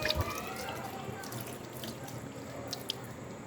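Tap water runs steadily into a sink with light drips and splashing as children wash their hands, soft and continuous in a home setting.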